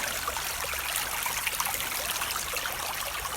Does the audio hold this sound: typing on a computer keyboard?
no